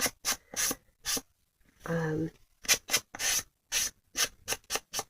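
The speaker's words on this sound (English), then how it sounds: "you can use one of these sanding blocks, which will just take off all these little nubby things" Repeated short bursts of dry rubbing and rasping as a sanding block is scrubbed back and forth over die-cut embossed paper, with a brief voice in the middle.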